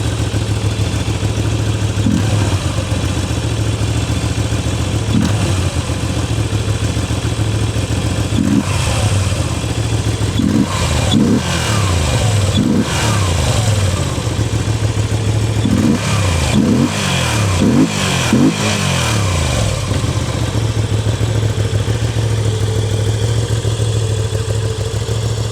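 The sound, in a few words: Moto Guzzi V7 Sport motorcycle engine revving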